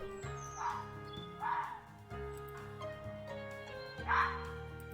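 High-pitched, dog-like yips and barks of a fox recur in several bursts over a steady droning musical background.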